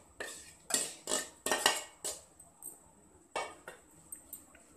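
Grated raw mango being mixed with chili powder, salt and spices for pickle, a series of about nine close scraping, clinking strokes of a spoon against a bowl in an uneven rhythm, quiet between strokes.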